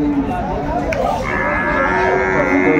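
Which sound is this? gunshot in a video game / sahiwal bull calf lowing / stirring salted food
sahiwal bull calf lowing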